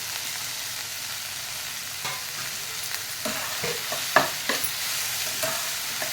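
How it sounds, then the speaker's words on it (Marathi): Okra (bhindi) with turmeric, Kashmiri red chilli and garam masala is stir-fried over a high flame, giving a soft, continuous sizzle broken by light spatula scrapes and a few sharper clinks against the pan. "आणि पुन्हा हाय फ्लेमवरती आपल्याला 1 मिनिट ही भाजी चांगली परतून घ्यायची आहे"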